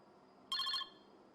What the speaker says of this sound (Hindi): डॉक्टर साहब का फोन आ रहा है